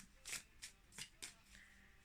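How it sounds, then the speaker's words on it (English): Several short bursts of tarot cards being shuffled with overhand and riffle shuffles, close and fairly quiet, coming in uneven flurries with brief pauses between them. "overhand shuffles and riffle shuffles"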